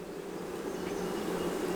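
Honeybees in an open hive make a steady, continuous close-up buzz, a dense droning hum that holds evenly throughout with no voices.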